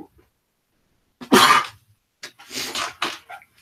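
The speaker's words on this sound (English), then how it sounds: "Oh my gosh, I have to sneeze again." A person sneezes loudly and close by, one sharp burst followed by a few shorter breathy bursts and throat noises, with silence in between.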